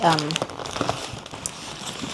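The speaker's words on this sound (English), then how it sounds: "Loads of Japanese newspaper to wrap it up." Crinkling Japanese newspaper packing being unwrapped from a parcel, rustling in close, irregular bursts, with a brief voice at the start.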